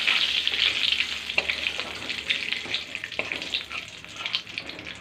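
Whole garam masala spices, cumin, dried red chillies and bay leaf sizzle steadily in hot oil for mutton curry, a continuous bright crackling hiss with occasional stirring clicks, close and fairly loud, no voices.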